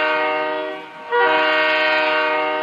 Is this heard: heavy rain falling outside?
no